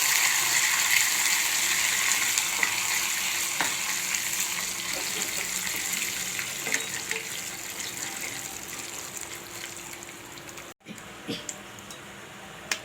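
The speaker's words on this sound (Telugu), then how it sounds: "తాలింపు బాగా వేపుకుందాం." Tempering seeds and curry leaves fry in hot oil in a pan for a peanut chutney, a bright crackling hiss that starts loud and slowly eases, with a brief pause near the end.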